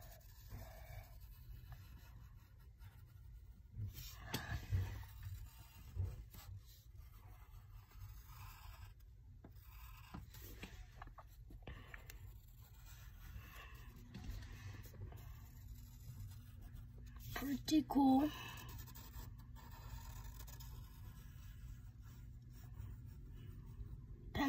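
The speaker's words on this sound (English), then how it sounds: "Pencil's not as sharp as normal" A slightly blunt pencil draws on paper, its faint, intermittent scratching strokes soft and close in a quiet room, with a brief spoken remark.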